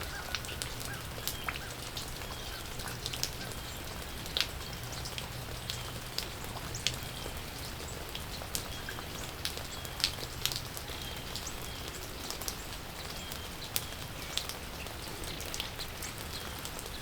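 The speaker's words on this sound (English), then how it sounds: "It's raining again." Steady rain falls on outdoor surfaces, a dense even patter with scattered louder drops striking close by, continuing throughout with no voices.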